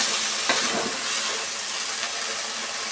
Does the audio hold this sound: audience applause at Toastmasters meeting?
no